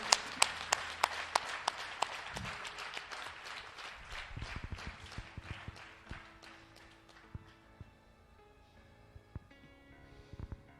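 Congregation clapping in rhythm during a church service, brisk regular hand claps that start loud and dense and then thin out and slow toward the end, with scattered voices underneath.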